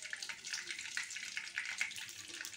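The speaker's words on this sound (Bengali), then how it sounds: "এবার এক ফোঁটা কালো জিরে ফোড়ন দিলাম" Nigella seeds sizzle in hot oil as a tempering for a green pabda fish curry, a dense, steady hissing crackle at moderate level with no talking.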